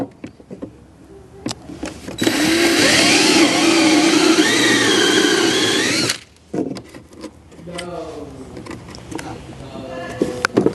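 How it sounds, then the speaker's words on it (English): A power drill whines steadily for about four seconds, boring a 1-inch hole in the side of a Pioneer 1000 side-by-side's glove box, pitch wavering as it bites in, with knocks and handling noises before and after. "in your glove box in the side, you want to drill a 1-inch hole"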